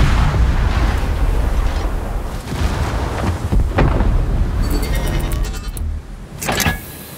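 Rapid-fire turret artillery salvos boom in a video game, several heavy blasts layered over a constant rumbling engine-like drone, with a sharper burst near the end.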